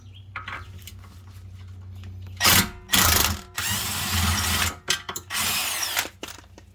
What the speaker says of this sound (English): You just remove the bolts after you take your tires off